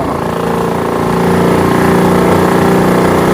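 A motorboat engine drones loud and close, steady and continuous with no talk, while the boat travels the Kuttanad backwaters.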